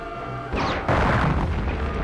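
A grenade explosion in the game Return to Castle Wolfenstein, a loud booming burst that hits suddenly after a quieter stretch and rolls on with crashing debris noise, without talk.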